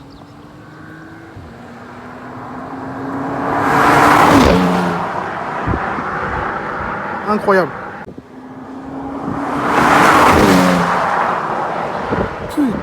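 Porsche Panamera with 462 horsepower doing a launch control start, engine swelling to two loud roaring revs several seconds apart, with someone talking between them.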